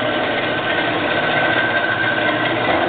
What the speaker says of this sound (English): Here we have a 7" by 12" horizontal bandsaw, 3/4 horsepower, 115 volt.